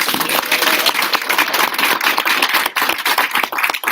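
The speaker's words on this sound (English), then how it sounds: "So give yourselves a round of applause" Audience at a school board of education meeting clapping for students; a brisk burst of many hands, fairly close and loud, uneven and thinning toward the end.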